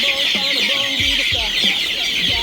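Five-week-old chicks clucking and peeping close by in quick overlapping calls, over a steady background hiss.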